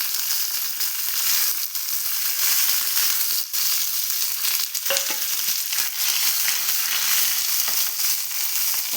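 Curry leaves frying in hot oil with popped mustard seeds and dried red chillies for tempering, a loud, close, continuous sizzle with sharp crackles and pops.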